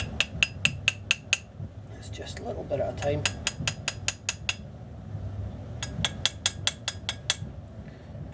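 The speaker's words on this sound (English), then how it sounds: "I'm just really hammering the edges" Sharp metallic hammer taps peening the steel tang of a Fairbairn-Sykes fighting knife ring out in quick runs of strikes, pausing briefly between series, with a voice speaking softly in between.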